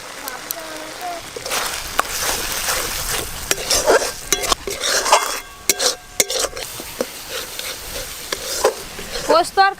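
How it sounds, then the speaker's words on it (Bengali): Masala with cashew and poppy seed paste is stirred and fried in a pan for stuffed potol dorma. A spatula scrapes and clatters against the pan over a soft sizzle, and a person talks at times. "পোস্ত আর কাজু বাদাম বাটা দিয়ে খুব বেশিক্ষণ মশলা আর কষবো না, খানিকক্ষণ কষে নিয়েছি"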